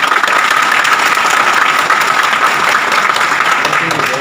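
Dense, loud crowd applause at a World Indigenous Day gathering, a steady wash of many hands clapping continuously without pause.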